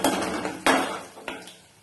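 Onions tipped into a pan of hot oil while cooking okra, with a sharp clatter at the start, then a second clink, followed by a soft settling sizzle and scraping close by.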